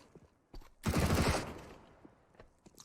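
A Mac-10 submachine gun in CS:GO fires a loud, dense burst of roughly half a second during a pro league match, with softer clicks and footsteps before and after.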